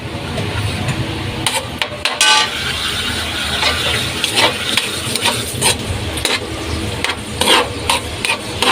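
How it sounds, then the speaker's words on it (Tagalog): Garlic and onion sautéing in a pan for pork menudo, a loud, continuous sizzle right up close with repeated clatter and scraping of a utensil stirring against the pan. "start na po tayo maggisa ng bawang at sibuyas"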